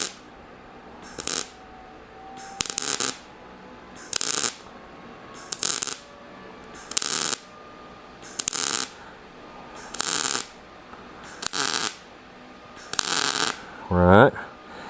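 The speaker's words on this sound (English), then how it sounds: "I'm just gonna weld that solid." Plug welds being laid on the upper radiator duct of a '37 Zephyr: about nine short, even bursts of crackling weld noise roughly a second apart, each stopping cleanly, with a brief squeaky tone at the very end.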